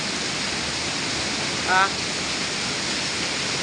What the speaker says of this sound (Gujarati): ખતરનાક વરસાદ છે